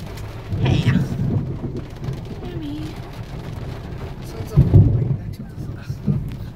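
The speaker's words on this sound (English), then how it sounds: "Thunderstorm." A thunderstorm with rain during a drive through a hailstorm: steady rain noise with low rumbling swells of thunder, and faint voices now and then.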